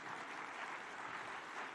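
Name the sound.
audience applause after President Ruto's speech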